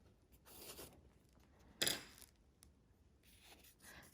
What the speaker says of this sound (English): I just ripped the page out to make it easier to cut out